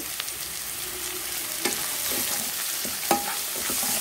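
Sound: vegetables with capsicum cooking in a pan for noodles

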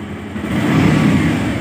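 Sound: Bajaj Pulsar motorcycle engine started with self-starter, running

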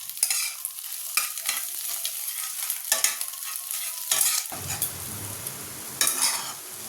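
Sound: egg frying in a pan for chowmein

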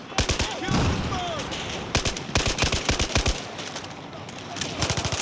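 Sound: grenades and gunfire in Battlefield 4 video game

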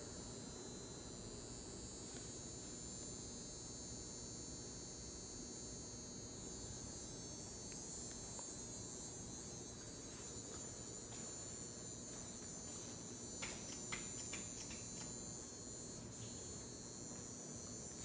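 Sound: hum of a broken Montgomery elevator

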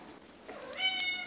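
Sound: cat meowing

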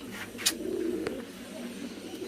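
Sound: King pigeon cooing

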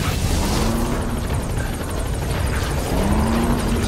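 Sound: helicopter landing in Metal Gear Solid V video game

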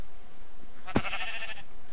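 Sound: sheep bleating in a video game (Minecraft)

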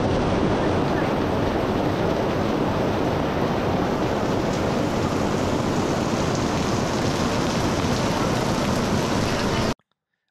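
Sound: heavy rain on the Camino Primitivo

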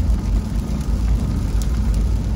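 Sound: rain falling outside a moving car

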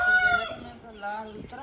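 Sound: black rooster crowing

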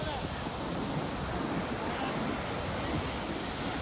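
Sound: sea waves crashing on the shore during a storm

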